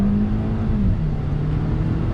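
2019 Toyota Camry with an 8-speed automatic pulling away from slow speed, a steady engine drone that rises slightly in pitch, heard from inside the cabin, continuous and moderately loud.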